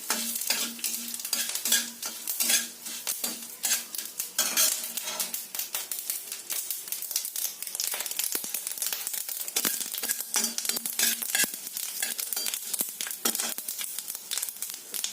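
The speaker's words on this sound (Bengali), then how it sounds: "তেজপাতা আর গোটা সর্ষে আগে এগুলো সব ভেজে নিচ্ছি" Bay leaves and whole mustard seeds, with dried chillies, fry in a pan for a Bengali shukto, a steady close sizzle broken by repeated scrapes and clinks of a stirring spoon, with no voices.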